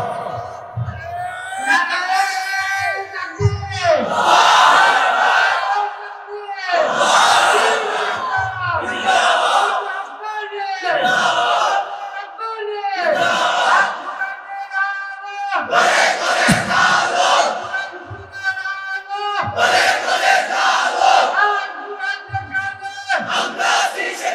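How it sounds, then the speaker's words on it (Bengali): A large crowd at an Islamic sermon (waz) roars takbir and slogans in repeated loud collective bursts, one chant after another with brief gaps, close and filling the space. "তোমরাই স্লোগান দাও, তোমরাই তাকবীর বলো"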